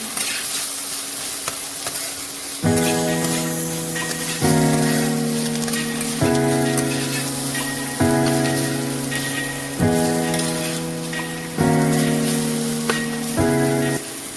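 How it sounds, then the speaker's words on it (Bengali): Chopped vegetables with curry leaves frying in a pan for flattened-rice pulao, a continuous crackling sizzle under a repeating tonal pattern that recurs every couple of seconds. "এরপর সবজিগুলোকে ভালোভাবে ভেজে নেব।"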